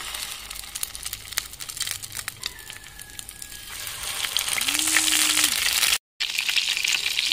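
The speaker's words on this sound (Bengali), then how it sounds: "এবার পটলগুলোকে ছেড়ে দেব, এইভাবে উল্টোভাবে দিয়ে দেব" Stuffed pointed gourds are laid into hot oil in a frying pan, giving a crackling, popping sizzle that grows louder over several seconds, with a brief cut of silence near the end.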